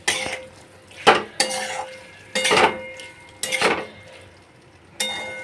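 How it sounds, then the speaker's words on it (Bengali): A spoon scrapes and stirs watermelon-rind curry in a metal pan after sugar goes in, with about five loud, close, separate strokes and faint sizzling between them. "চিনিটা দিয়ে ভালো করে নাড়াচাড়া করে নেব"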